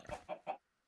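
Three short clucks from a chicken in the Blood N Bones video game, evenly spaced and close, then silence.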